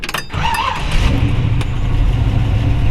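A 1956 Chevy 210/Bel Air two-door with a ZZ4 350 V8 cranks briefly, then catches and settles into a loud, steady, close-up rumble that holds for the rest of the moment.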